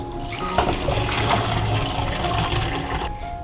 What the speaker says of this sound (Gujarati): આ રીતે તેમાંથી બધું જ વધારાનું જે પાણી છે તેને આપણે નીકાળી દઈશું